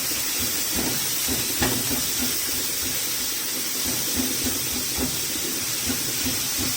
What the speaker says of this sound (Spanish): Voy a empezar a freír la carne.